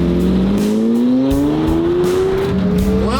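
A Lamborghini fitted with an aftermarket exhaust revs loud and close, its engine note climbing steadily in pitch and then settling back, with a raspy, continuous drone throughout.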